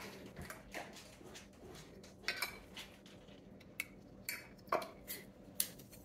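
Metal lids being set onto glass canning jars of beef broth, a quiet series of scattered light clinks and taps at irregular intervals, close and faint.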